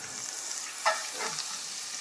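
A good knob of butter melts in the pan that was used to sauté veal, giving a soft, steady, fairly quiet sizzle with a brief sharper spit near the middle.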